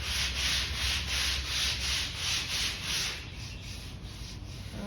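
Drywall compound being hand-sanded on a model train layout, steady rhythmic back-and-forth rubbing strokes close by, then a rougher, less even scraping toward the end.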